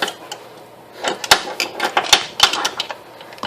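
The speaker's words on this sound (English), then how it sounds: "I got to get these bolts tight now." Bolts on a water pump are tightened on a 2002-2005 Chevrolet Cavalier Ecotec engine, giving sharp, irregular metallic clicks and taps at close range, with faint handling noise between them.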